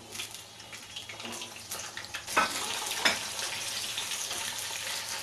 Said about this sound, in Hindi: इस सब्जियों को फ्राई करेंगे।